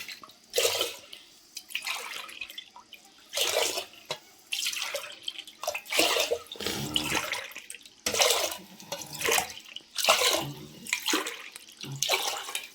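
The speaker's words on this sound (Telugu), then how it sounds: "9 గ్లాసుల నీళ్ళు అయితే నేను పోస్తున్నానండి" Water is poured glass by glass into a pot of moong dal and rice for pongal, about nine gushing splashes separated by brief pauses, close and fairly loud.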